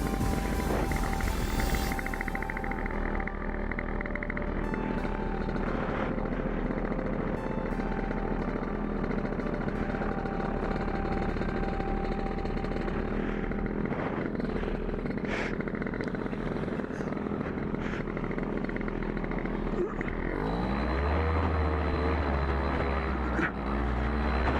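A paramotor engine drones steadily and loud throughout a flight in Bulgaria, with a dense, continuous roar, wind buffeting, and a shift in pitch near the end.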